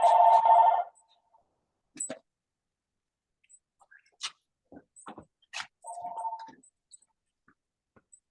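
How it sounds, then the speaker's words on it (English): A telephone rings in the background during an interview: a short burst of ringing at the start, then sparse clicks and faint tones, and a second brief ring near the end, with no talk. "there's another phone ringing"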